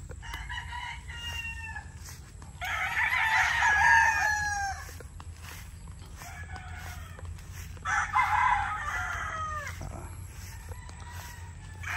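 Fighting roosters on a farm crow in two clear, loud calls several seconds apart, with softer clucks and distant crowing between them.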